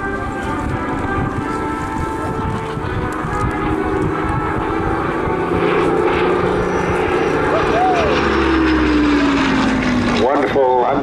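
A Polish-marked Supermarine Spitfire Mk Vb makes a flypast at the 2022 Southport Airshow. Its engine gives a loud, steady drone the whole time, rising slightly in pitch as it passes, while a commentator talks over it.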